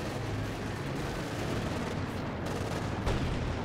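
Thick, relentless battlefield gunfire and distant artillery rumble from Company of Heroes 2, with machine-gun bursts blending into a dense, unbroken wall of combat noise and one sharper crack near the end.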